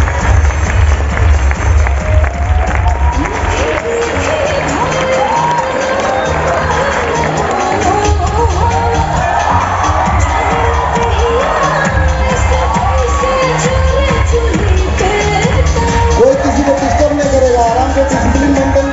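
A large outdoor crowd at an award ceremony at Gandhi Maidan in Patna claps and cheers loudly, a dense sustained din of applause and shouts with a deep rumble underneath.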